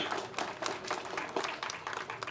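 An audience at a Tamil film audio launch event applauds. The clapping is moderate and choppy, with uneven bursts that rise and dip throughout.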